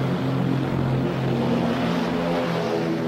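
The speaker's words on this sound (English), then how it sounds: "Planes are launched to respond to a threat in the area." Propeller-driven WWII fighter planes launch from an aircraft carrier deck, a steady loud engine roar and drone holding throughout with no voices.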